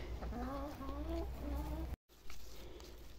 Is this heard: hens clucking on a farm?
yes